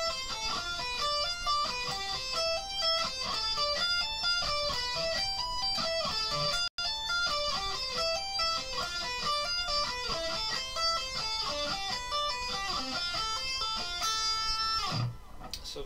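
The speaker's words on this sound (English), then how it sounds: "the only new thing we got is sweeping" Guitar sweep picking, with rapid arpeggios rolling through major to minor chord shapes in steady repeating patterns, played continuously and clearly for about fifteen seconds with no voices.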